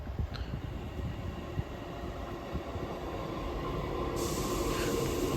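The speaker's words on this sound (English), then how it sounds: "And here's our train arriving in now." A train rumbles steadily as it rolls into a UK station, the low mechanical drone growing slightly louder, with a high hiss joining near the end.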